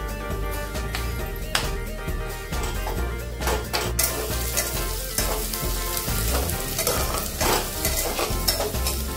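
Onion, chilli and bay leaves frying with cumin in hot oil for mushroom masala, a loud continuous sizzle with repeated spatula stirs and scrapes against the pan, close up.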